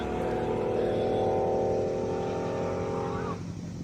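A Porsche Carrera Cabriolet races up a hillclimb course at a classic car event, its engine holding a loud, steady high-revving drone close by before the pitch shifts down as it pulls away.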